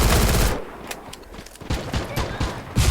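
In the Free Fire game, rapid gunfire crackles in dense bursts with a few sharp single shots between them, loud and close throughout, with no talking over it.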